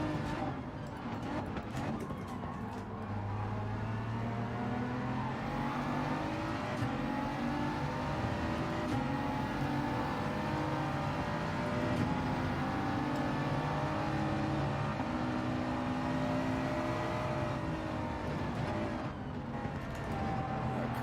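Ferrari race car engine in Gran Turismo 7, revving and holding high, steady speed through gear changes, loud and continuous throughout.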